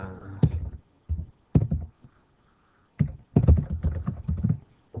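Keys clatter on a computer keyboard in two quick bursts of typing separated by a short pause, close and fairly loud, with no talking.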